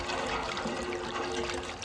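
Water trickles steadily onto the ground at a family deity temple during Pongal preparations beside a rice-flour kolam, a close, continuous pouring and splashing wash with no talk.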